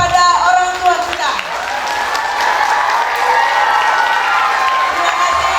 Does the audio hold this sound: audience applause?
yes